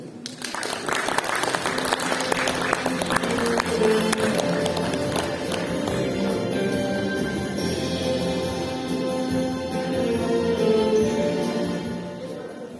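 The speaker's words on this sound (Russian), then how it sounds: "Аплодисменты." Applause from an audience at an art exhibition greets a speaker at Russian Palestine, a dense, steady patter of many hands lasting throughout at moderate loudness, fading slightly at the end.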